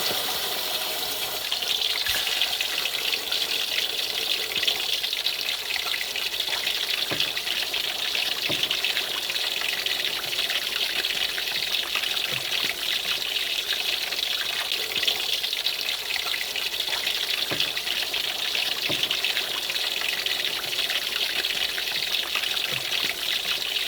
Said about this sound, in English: The chicken's been marinating for 2 hours now, and now we're going to start frying it.